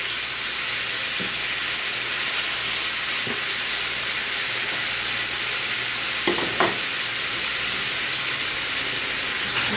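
Small hamburgers fry in oil in a pan, giving a loud, steady sizzle up close, broken by a few soft clinks and scrapes as they are handled; no one speaks.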